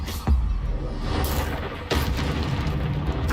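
Incendio fire spell in Hogwarts Legacy, a loud booming blast that erupts sharply and is followed by a second whooshing burst, rumbling and close.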